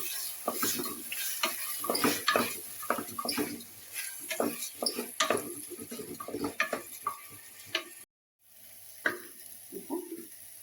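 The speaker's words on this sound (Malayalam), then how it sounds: "ജസ്റ്റ് ഒന്ന് ഫ്രൈ ചെയ്യും." Paneer fries in a pan, a faint steady sizzle under irregular clinks and scrapes of a spoon stirring against the metal, close by and soft, with a brief silent gap near the end.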